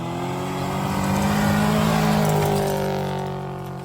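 An unusual hillclimb car in Sweden revs hard on a dirt road, a loud sustained engine roar rising and holding steady before easing off slightly, with no talk over it.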